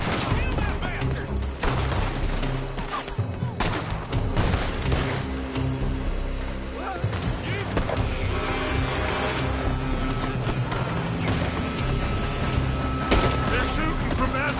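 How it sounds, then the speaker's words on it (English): Repeated gunfire from a Red Dead Redemption 2 shootout, bursts and volleys crackling steadily throughout, dense and loud with music and voices mixed in. "They're shooting from that building!"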